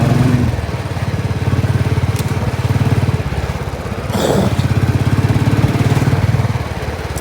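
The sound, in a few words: motorcycle engine acting up while riding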